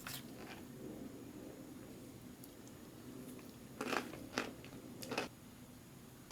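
Crunchy noodles mixed into a 2001 MRE beef teriyaki, Menu No. 17, kept frozen for 15 years, are bitten and chewed up close. Three or four quiet, crisp crunches come near the end over a faint background.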